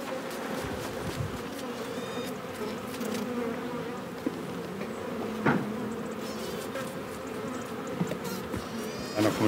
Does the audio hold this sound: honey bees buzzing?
yes